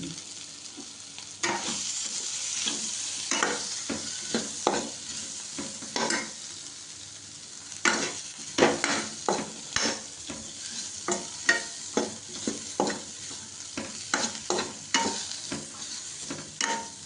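Potato masala with curry leaves, turmeric, curry masala powder and chili powder sautéing in a pan, a steady soft sizzle broken by repeated scraping spoon strokes at an uneven rhythm, close and alone.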